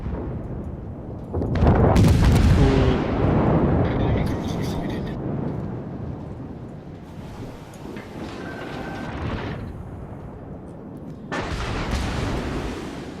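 Heavy naval guns on an Italian cruiser, the Duca d'Aosta, fire in a naval combat video game, with deep booming blasts and rumbling sustained roars rolling across the clip while someone talks over the action.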